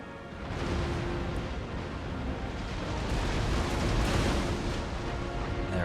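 Dense, continuous rumble of cannon and artillery fire across an Empire: Total War battlefield, a loud, unbroken roar with no single blast standing apart.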